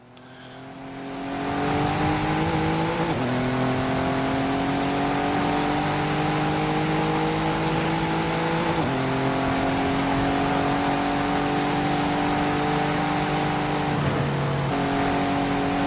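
Racing cars in a video game scream along the track as one overtakes, with a loud sustained engine whine climbing through the gears, shift drops every few seconds, and close, continuous revving alone without talk.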